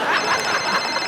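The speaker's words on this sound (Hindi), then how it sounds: "ये मेरा फोन बज रहा है" A phone rings on a comedy show stage, a brief trilling electronic ring with pulsing warble, fairly loud and alone without talk.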